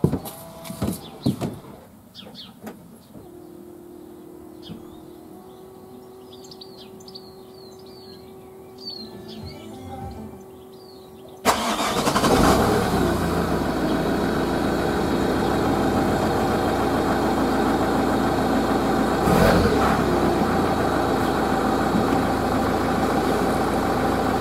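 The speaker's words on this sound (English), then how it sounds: "while I start the engine" Work van engine cranked and started outdoors with birds chirping, quiet at first, then the engine catches with a sudden jump in loudness and settles into a steady, close idle.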